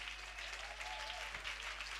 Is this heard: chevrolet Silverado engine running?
no